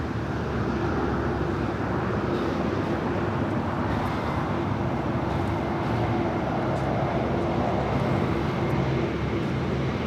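A Boeing 747-8 at LAX produces a loud, continuous broadband jet roar that holds steady across the whole stretch, with no voices heard.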